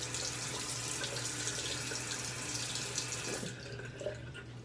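Tap water runs steadily into a sink while a face is wetted before shaving, a close, continuous splashing hiss that softens near the end.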